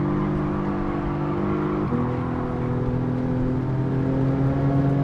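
A race car engine in Gran Turismo 7 drones at a steady, moderate cruise, its tone dipping briefly then holding even, with no talk over it.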